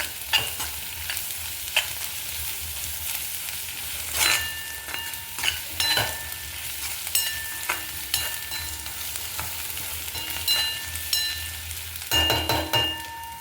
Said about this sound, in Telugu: ఇది కూడా కలిపేసుకుందాం పచ్చివాసన పోయేదాకా